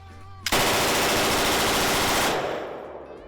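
A machine gun, set to fully automatic only, rips off one long continuous burst lasting nearly two seconds, loud and close, with a rough tail of echo afterward.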